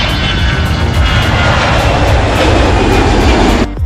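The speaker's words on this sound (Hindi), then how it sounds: "पहली बार जब तेजस का इंजन 84 किलो न्यूटन थ्रस्ट के साथ दौड़ता है" A Tejas fighter jet engine runs at high thrust, a loud continuous broadband roar with a steady whine that holds for nearly four seconds before cutting off abruptly at the end.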